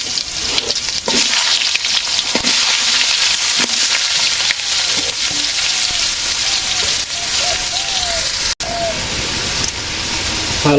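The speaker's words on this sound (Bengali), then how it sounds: "আলু কটা ভেজে নেবো একটু" Potatoes fry in a pan in a village kitchen, a steady loud sizzle lasting throughout with occasional stirring knocks and brief soft voices underneath.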